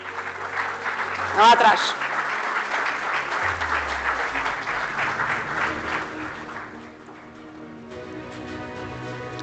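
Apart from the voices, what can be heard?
audience applause at a safety event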